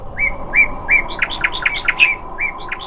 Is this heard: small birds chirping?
yes